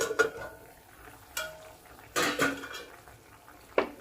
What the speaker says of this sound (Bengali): ঢাকাটা খুলে দিচ্ছি।